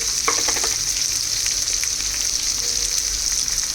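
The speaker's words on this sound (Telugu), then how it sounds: "ఫ్రై అయ్యాక నెక్స్ట్ ఆనియన్స్, కరివేపాకు వేసుకుంటున్నానండి" Onions and curry leaves sizzle steadily in a hot oil pan, a continuous bright frying hiss with a few crackling pops near the start, close and even throughout with no talking.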